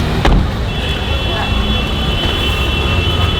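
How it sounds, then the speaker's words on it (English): Heavy morning road traffic outside an Indian train station, a dense continuous roar of engines with a high whine above it and voices mixed in. "somehow there's a crap ton of traffic this morning"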